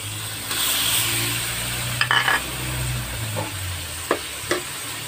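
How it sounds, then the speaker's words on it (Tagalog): Pork browning in a hot pan for ginisa balatong, a steady frying sizzle with a few sharp clicks of stirring against the pan, close and alone without talk. "Hayaan nating mag-brown o maluto na yung pork."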